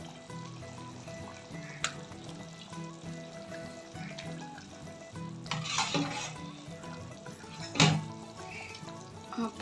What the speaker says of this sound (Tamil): இப்போ வந்து ஃபிஷ்ஷை வந்து சேர்த்துடலாம்.